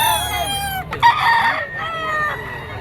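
A stag fighting cock crows loudly at a busy poultry market in Padre Garcia, Batangas, its drawn-out call rising and falling over the din of other birds clucking and calling nearby.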